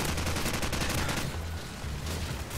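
Rapid gunfire crackles continuously in Call of Duty 4 gameplay, a dense, fairly loud stream of shots with a steady low rhythmic thump underneath.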